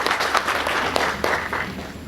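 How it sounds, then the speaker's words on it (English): Audience applause at an HR Speaks Out 3.0 session, welcoming a student club: a steady wash of dense clapping from a room of people, held at an even level with a few sharper claps standing out. "big round of applause for HSS."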